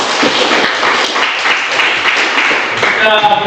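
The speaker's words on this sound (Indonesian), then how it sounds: "Tepuk tangan untuk kita." A classroom group applauds together, dense steady clapping filling the whole stretch at a loud, close level, with a few voices calling out near the end.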